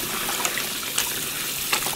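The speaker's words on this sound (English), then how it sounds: "Couple of times you just wash and pour out the water, and then with new fresh water," Water splashes and trickles from a bowl of rice as it is poured off after rinsing, a steady wet hiss with a few brief gushes, close by and without talk.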